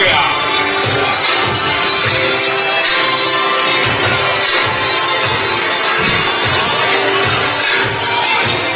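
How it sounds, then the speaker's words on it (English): A large crowd at a boxing match in the West End Hotel roars and cheers loudly and continuously after a knockout, with shouts and whoops rising from the dense, close wall of noise. "Crowd absolutely going crazy here at the West End Hotel."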